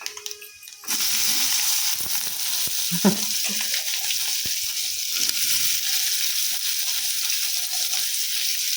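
Onion pieces and green chillies drop into hot oil, setting off a sudden loud sizzle that keeps frying steadily in the pan, with one brief scrape of a utensil partway through.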